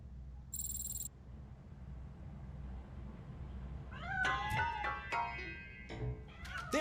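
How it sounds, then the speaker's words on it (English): A cat inside a piano in a video game lets out several short meows and squeals near the end, after a stretch of quiet background with a brief electronic tone. "That cat must be hiding inside."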